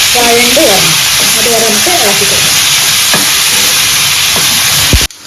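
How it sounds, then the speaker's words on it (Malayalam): Chopped tomatoes sauté in a hot pan for Kerala fish pollichathu, making a loud, continuous sizzle and hiss with a few stirring scrapes, under a voice speaking early on. "മൂന്ന് തക്കാളി നമ്മൾ ചെറുതായിട്ട് അരിഞ്ഞത് ആഡ് ചെയ്ത് കൊടുക്കുന്നുണ്ട് ഇത് നന്നായിട്ട് വഴണ്ട് വേണം"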